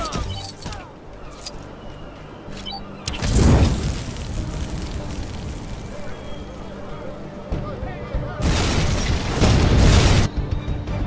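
A weapons stockpile blows up in the LEGO Batman 3 video game. Two loud, deep booms land a few seconds apart, each rumbling out over a busy bed of game sound effects.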